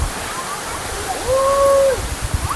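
Steady rushing water of the hot spring waterfall at Khlong Thom, Krabi, Thailand fills the clip, a continuous broadband roar, with a brief tonal whistle-like sound partway through.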